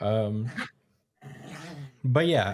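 A pet dog named Lucas growls and whimpers softly in the background while people talk over it, the animal sounds low and intermittent beneath the voices.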